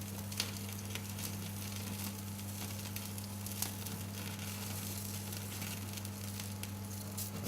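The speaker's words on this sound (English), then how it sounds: "You can see how beautifully that fat is now crisping up there" Steak fat crackles and sizzles steadily on a Weber braai, a dense close crackle over a low steady hum, with no voices.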